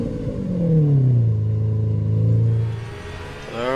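A Porsche 992 GT3R racing car engine roars loud and close in a racing video game at the Dubai Aerodrome circuit, revving through sweeping rises and falls in pitch as the car accelerates and shifts, with no voices.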